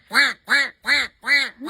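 A man imitates a duck with four rhythmic, nasal quacks in quick succession, evenly spaced and loud, delivered close up with no other sounds around them.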